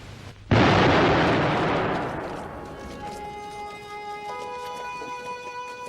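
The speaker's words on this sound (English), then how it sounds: "the 1-ton warhead of high explosives causing enormous damage in built-up areas" A V1 flying bomb's one-ton high-explosive warhead detonates with a sudden, massive boom that rumbles on and fades over a couple of seconds, then gives way to lingering tonal ringing and background noise.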